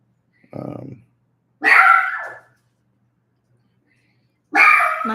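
A dog barks in three separate bursts, close and loud: one short low bark, then a longer higher bark a moment later, and another after a pause, with quiet gaps between them.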